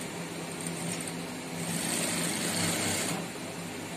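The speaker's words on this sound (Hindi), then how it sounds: "इसमें हम यहाँ पे इसकी बैंड के ऊपर सिलाई लगा देंगे।" A sewing machine runs steadily while stitching along the band of a shirt collar at home, giving a continuous close mechanical hum that swells slightly midway, with no talk.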